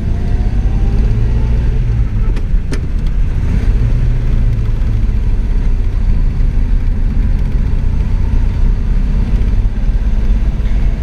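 A rare 1941 Graham Hollywood Supercharged car engine runs loud and close with a steady low rumble, a brief change in pitch as it shifts gears, and a couple of sharp clicks early on.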